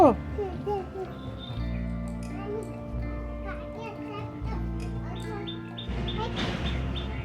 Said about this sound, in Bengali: এই যে পাখি ডাকছে এদিকে গাছে